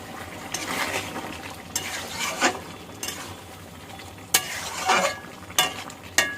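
Shim chacchori, a Bengali bean curry, being stirred in a pan after tomato goes in: close scraping and clinks of a spoon against the pan in uneven bursts over a soft steady sizzle, with no talking.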